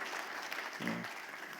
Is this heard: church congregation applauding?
yes